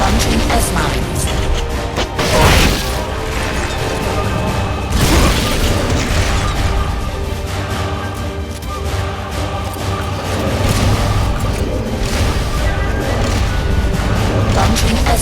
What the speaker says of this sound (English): Launching S-mines. Shoot it down before it hits!